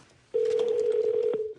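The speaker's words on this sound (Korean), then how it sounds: "일단 제가 전화를 해보죠" A telephone tone sounds as a call is being dialed. After a short quiet, a single steady electronic tone holds for about a second and a quarter, close and fairly loud, with faint clicks running underneath.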